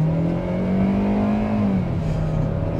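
A used car's engine revs at high RPM during a test drive, a steady loud droning whine that rises slightly and then eases back, heard up close and alone with no talking.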